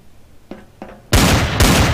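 Machine gun fire in Counter-Strike: Source, two faint distant pops followed by loud, dense bursts of automatic fire close by, continuous and harsh through the rest of the moment.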